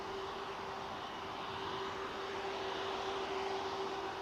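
A Gulf Air jet in retro livery pushes back at Manchester Airport, its engines giving a steady, continuous roar with a fixed whining tone, heard from a distance, unchanging throughout.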